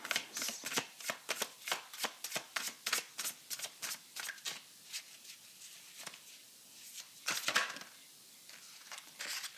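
A deck of tarot cards is shuffled up close, a fast run of crisp riffling bursts repeated in a steady rhythm, with one longer ruffle near the end and no voices.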